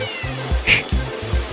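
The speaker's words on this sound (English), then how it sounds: "C for cat." A house cat gives a short meow, brief and close, over a backdrop of light musical tones.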